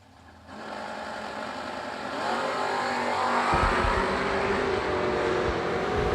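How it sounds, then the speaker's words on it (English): Generation 4 and first-generation Camaro race cars roar past at a racing event, the engines building from a steady drone to a louder, close, sustained rush as they accelerate. "Next up in the Generation 4 Camaro, Brian Willingham taking on Carson Neely"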